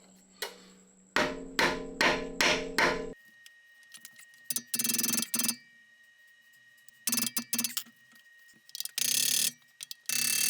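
A ratchet wrench loosens the exhaust on a Ducati Panigale V4S. A rapid burst of close, sharp clicking comes first, then several shorter ratcheting runs separated by quiet gaps.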